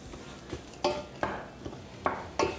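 Utensil scraping and clinking against a pan while stirring a sweet-and-sour bitter melon mixture with brown sugar and vinegar, about six distinct knocks spaced irregularly, close and moderately loud with no talk.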